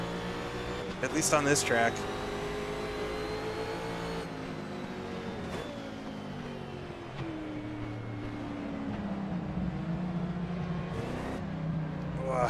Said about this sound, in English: Oh, the engine noise.